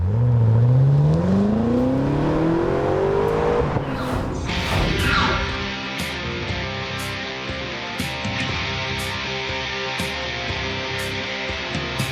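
A compact car with an apparent aftermarket exhaust revs up hard with a rising exhaust roar, then settles into a steady, loud drone as it speeds along.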